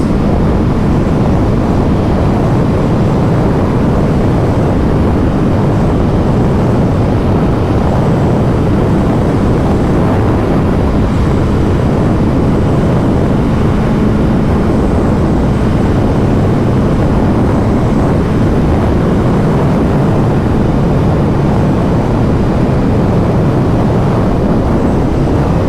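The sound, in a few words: riding a 2023 Honda CBR1000RR-R Fireblade SP motorcycle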